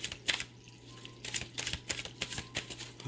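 Tarot cards being shuffled close up, with quiet irregular bursts of papery riffling and flicking, some in quick clusters, against a low steady hum.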